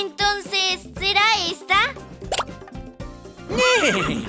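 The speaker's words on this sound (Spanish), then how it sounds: "¡Ese era el sonido de un caballo veloz!" A cartoonish horse whinny sound effect in a Spanish-language children's animal song, sung in several rising and falling bursts, with a voice speaking briefly.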